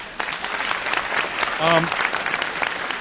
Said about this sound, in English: you should give yourselves a round of applause for being here